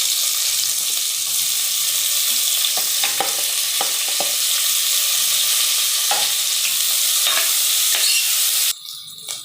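Chopped onions hit hot coconut oil already seasoned with masala spices, raising a loud, steady close sizzle that runs almost unbroken with faint stirring clinks before cutting off abruptly near the end.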